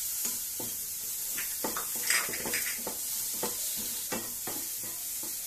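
Tomatoes sizzling and frying in a pan for a Tamil paleo breakfast recipe, with steady hissing throughout and repeated scraping stirs of a spoon against the pan, close and clear, no talking.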